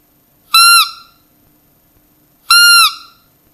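A Buttolo roe deer call imitating a fawn sounds twice, each a loud, short, high squeaky bleat with a slight downward bend, separated by about two seconds of near silence.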